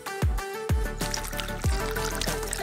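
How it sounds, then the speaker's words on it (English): A melted green candy and cream mixture pours into tilted glasses, a close, wet trickling stream with a few sharp knocks between pours, set against background music. "Once it's mixed, pour it into tilted glasses."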